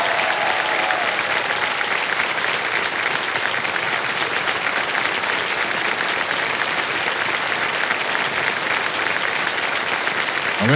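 A studio audience on a Hindi TV quiz show applauds steadily, a dense, loud wash of clapping sustained throughout without pause, no voices.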